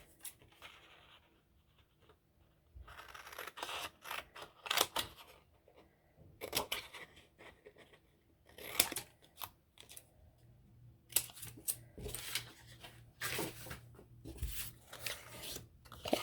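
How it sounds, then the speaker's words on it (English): Scissors cut a tag from a leftover cardboard file folder in a quiet craft setting, giving close, soft snipping and rustling in irregular bursts separated by brief pauses, with no talking. "I'll get some more of my remnant file folder. Cut another tag."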